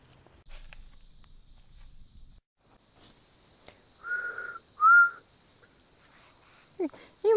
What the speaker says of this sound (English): you were whistling at your camera instead of your mic